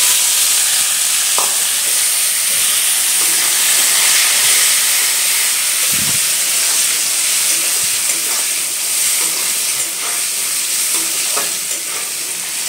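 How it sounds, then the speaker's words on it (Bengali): Peanuts fry in hot oil with salt, chaat masala and black pepper for a flattened rice snack, making a loud, continuous close-up hiss and sizzle broken by occasional stirring clinks. "এই বাদামটা একদম হালকা করে ভেজে নিতে হবে"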